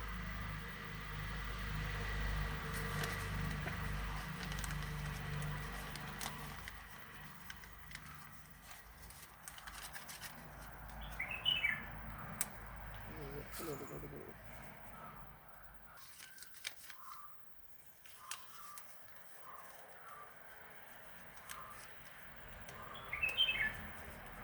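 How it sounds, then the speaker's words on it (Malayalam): Small birds chirp intermittently in an outdoor garden with bitter gourd vines, the short bright calls fairly distant over low rumbling background noise and occasional soft knocks. "കിളി"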